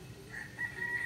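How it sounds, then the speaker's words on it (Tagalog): Chickens cluck and crow faintly in the background of a backyard, short wavering calls over a quiet outdoor hum, with no talking. "May manok pa kami sa bahay."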